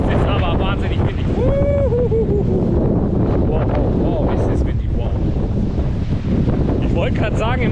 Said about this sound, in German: es ist aber wahnsinnig windig.